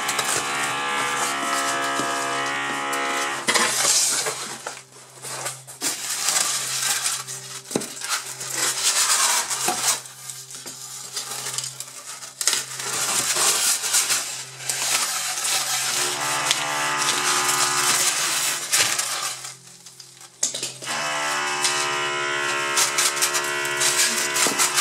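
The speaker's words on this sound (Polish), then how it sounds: "Tak, sąsiad ma remont." Renovation work from a neighbouring flat in an apartment block carries through the walls as sustained grinding and rasping power-tool noise, pausing briefly and restarting, moderately loud and without speech.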